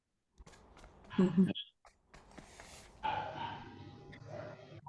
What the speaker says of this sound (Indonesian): Anjing siapa yang gonggong?